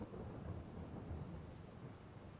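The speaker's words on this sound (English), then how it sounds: "Definitely is raining." Steady rain and a low rolling rumble of thunder fill the Erlengrat map in Farming Simulator 22, a constant, dense wash with no voices.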